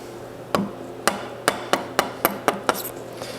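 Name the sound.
chisel chipping out a mortise in a wooden gun stock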